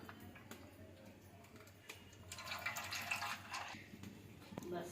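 Cooking oil is poured into a pot for biryani, a soft liquid splash and gurgle swelling in the middle and then easing off, fairly faint, over light kitchen background noise.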